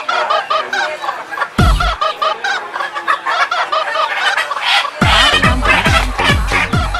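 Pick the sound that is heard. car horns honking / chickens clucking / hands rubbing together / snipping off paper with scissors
chickens clucking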